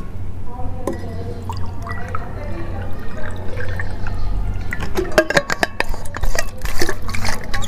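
Water is poured into a glass to test how well a whey protein powder mixes, with clinking and dripping splashes growing louder near the end while someone talks over part of it.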